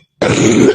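A single short, harsh cough or throat-clearing burst from a man suffering from a cough and cold, close and loud, starting abruptly after a brief silence.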